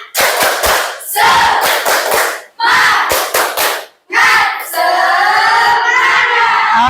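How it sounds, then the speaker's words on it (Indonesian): Schoolchildren in a classroom perform a rhythmic spirit clap, sharp patterned hand claps in quick bursts with brief pauses, ending in a loud group shout of voices chanting together. "Tepuk semangat."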